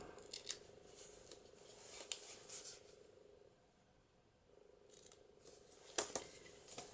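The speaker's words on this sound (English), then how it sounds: "pinking shears to cut that off" Pinking shears snip through paper in a card-making project, giving several sharp crisp cuts in short clusters with a quieter pause in the middle, close up and without speech.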